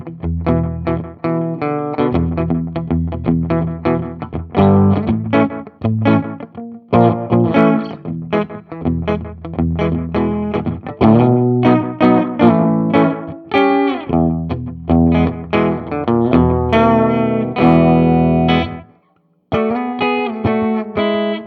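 An electric guitar runs through a Behringer Vintage Time Machine delay pedal set to low feedback, a short delay time and subtle vibrato, giving a dry, slightly wavering tone; loud played phrases and chords continue with a brief gap near the end.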